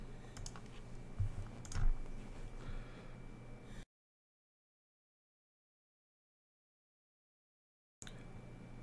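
Someone types on a computer keyboard in a few quiet, scattered clicks near the start. A long silent gap follows, then faint room noise returns.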